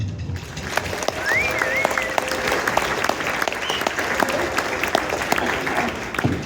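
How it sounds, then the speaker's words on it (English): Sustained audience applause fills a school winter jazz concert hall, steady dense clapping throughout with a few cheers and whistles rising above it. "So please give a huge round of applause to the rest of our staff and our administration at Santa Fe."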